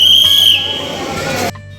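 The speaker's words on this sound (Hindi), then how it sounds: "तो वो सीटी की आवाज़ से ये श्रेया और धानिया चौंक गई थी" A sharp high whistle blows at a ropeway cabin station, loud and steady for about half a second before cutting off, leaving a rumbling mechanical hum and faint background chatter.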